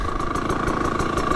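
A KTM 300XCW two-stroke dirt bike idles steadily close by with its cooling fan running, giving a continuous low engine hum with a faint rhythmic pulse and no one speaking.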